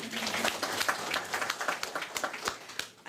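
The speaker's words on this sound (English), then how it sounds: "Can we give him a round of applause?" Audience applause at a formal government meeting on subsidised tertiary education, a moderate spread of clapping that holds steady for a few seconds.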